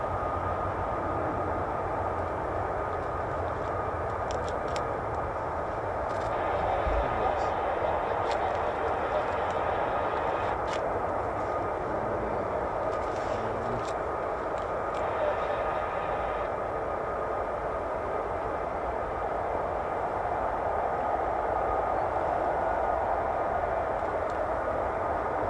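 F-35A fighter jets taxi out at RAF Lakenheath, home of the 48th Fighter Wing, making a steady broad roaring whine that holds for the whole stretch with a slight swell partway through. A voice may be faintly present.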